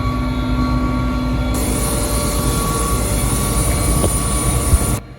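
Helicopter in flight heard from inside the cabin, a loud continuous rotor and turbine roar with steady whine tones, the sound cutting down sharply at the very end.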